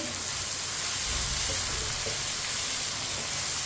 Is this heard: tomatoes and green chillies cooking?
yes